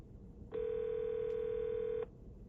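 A phone call rings through a car's wireless Apple CarPlay on a Lexion LX10S, a single steady electronic ring tone lasting about a second and a half, clear and close against low cabin hum.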